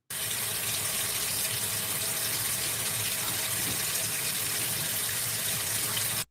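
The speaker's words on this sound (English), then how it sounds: "Listen to the water just going, just wasting water." A kitchen or bathroom tap runs steadily into a sink, a loud, close, continuous gushing hiss that holds even and unbroken for several seconds, then cuts off at the end, with no talk.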